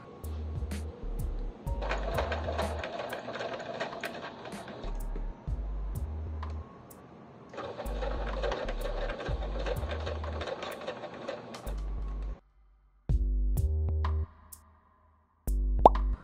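A sewing machine stitches the back closed on a small doll skirt in repeated bursts of rapid mechanical whirring, each run lasting several seconds, with short pauses and clicks between them and near, steady loudness.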